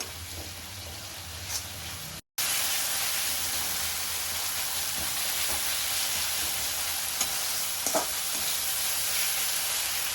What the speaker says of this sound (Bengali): এবার নেড়ে আমি মশলাটা নেড়ে একটু কষিয়ে নিচ্ছি।